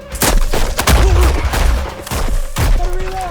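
Gunfire in a Western battle scene: loud, dense shots and booming thuds overlapping one another, with faint tonal sounds in the mix.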